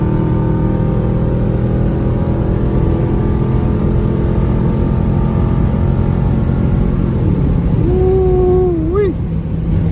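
A 2021 Dodge Durango R/T with straight pipe exhaust on a night drive, its engine droning loud and steady as it holds speed, then a sharp rising rev swell near the end.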